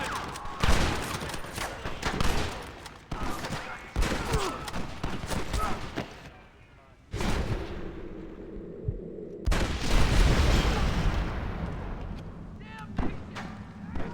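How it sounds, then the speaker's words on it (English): A Gatling gun fires in the video game Red Dead Redemption. Heavy rapid bursts and booms come in loud stretches broken by a brief lull, with voices speaking over the battle. "You man the Gatling gun, Marston!"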